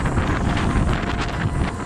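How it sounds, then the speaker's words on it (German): Strong, steady wind gusts buffet the microphone outdoors near an old abandoned oil mill in rural France, a constant roaring rush with no voices. "bei dem Wind kann man nicht viel hören"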